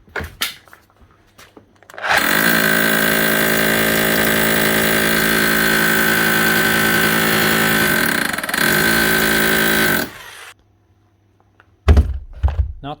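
A repaired Makita HR3210C rotary hammer drill running, a loud steady motor whine with rapid hammering that holds for about eight seconds after a few clicks, briefly dips, then stops, followed by a couple of clunks.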